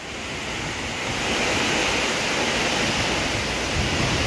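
Strong, roaring typhoon wind gusts in a continuous broadband rush, swelling louder after the first second and staying intense.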